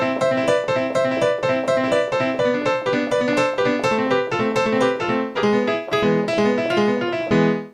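A piano plays a merengue pattern in thirds at a fast tempo, bright repeated chords struck in a quick, steady, bouncy rhythm for several seconds, close and loud with no talking.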